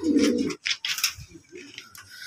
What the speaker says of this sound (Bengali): এটা সিরাজি কবিতর, এটা হচ্ছে ফস্টার।